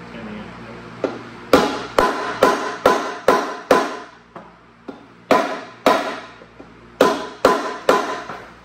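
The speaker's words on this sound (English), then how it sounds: "the dowels just need to go in. So it is just a matter of just hammering it a little bit" Sharp metallic hammer strikes drive dowels into a Porsche 911 engine block in uneven bursts, some lighter taps between heavier blows, close and clear with a faint hum underneath.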